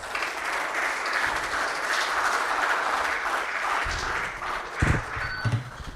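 Audience applause fills a signing ceremony between Aikya Vidya and Woxsen University, a steady, dense clapping lasting several seconds with a few louder bumps and knocks near the end.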